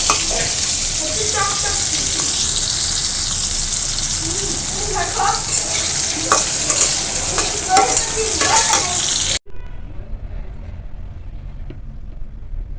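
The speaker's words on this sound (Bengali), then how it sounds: "আমি যে লবণ মাখায় রাখছিলাম এইটা এখন আমি তেলের ভিতর ভাজবো একটু নরম করে নিয়ে" Salted bitter gourd fries in hot oil with a loud, continuous sizzle and occasional stirring clatter for several seconds before cutting to a much quieter background.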